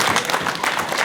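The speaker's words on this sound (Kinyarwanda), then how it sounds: "nimumuha amashyi" A wedding audience claps together in a dense, continuous burst of applause, loud and near, filling the short moment.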